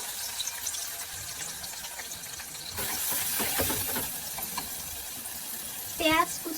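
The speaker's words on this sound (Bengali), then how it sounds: "তো পেঁয়াজটা হালকা হালকা ভাজা ভাজা হয়ে আসছে।" Chopped onions and whole spices fry in a cooking pot with a soft, steady sizzle that grows a bit stronger partway through, and a voice briefly speaks near the end.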